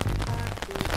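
Cartoon rain sound effect, a dense, loud patter of drops spread across the short moment, with no talking.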